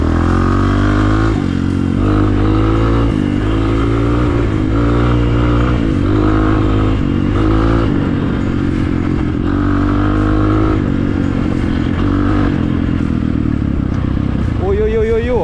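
A Rottor Titan 250 motorcycle being ridden, its engine loud and close with repeated revving and shifting as it pulls along, and a rider's voice heard over the engine at times.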